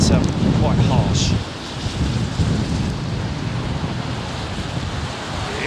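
Strong wind roars outdoors at Heathrow Airport, a loud, constant broadband rush buffeting the microphone with low rumbling gusts that ease slightly but never stop.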